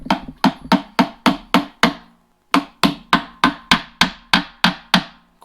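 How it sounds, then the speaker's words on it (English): Sharp metallic brass hammer taps in a steady rhythm, tapping a seal into a 1942 Farmall H tractor, about seven strikes, a brief pause, then another run of eight, close and loud. "Let me get my brass hammer."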